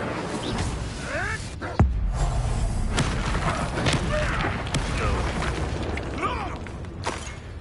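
In Hogwarts Legacy, an Incendio fire spell goes off with one sharp burst near the two-second mark, set inside a dense, noisy wash of combat effects with no clear talk.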